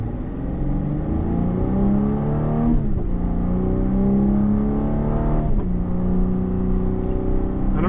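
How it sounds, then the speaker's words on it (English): A 2025 Cadillac CT5 Premium Luxury sedan accelerates hard on the road, engine pitch climbing in two sweeping gear runs with quick shift breaks between, loud and steady from the cabin, with faint exhaust pops at the shifts. "I don't know if you can hear that pop out of the exhaust going down the road"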